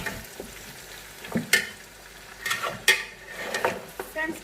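Tomatoes frying with mutton in a pan for paya, giving a soft sizzle with scraping stirs and a few sharp utensil clacks against the pot, close by.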